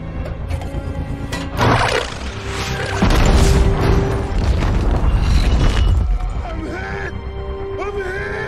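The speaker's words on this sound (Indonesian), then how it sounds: "Tembakan mortar menyerang ke arah mereka secara membabi buta." Mortar fire and explosions in the action film 13 Hours: repeated heavy booms and crashes rumble over a chaotic battle din, with a sustained loud stretch in the middle and whistling, screeching tones near the end.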